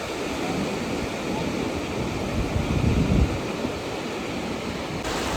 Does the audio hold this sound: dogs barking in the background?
no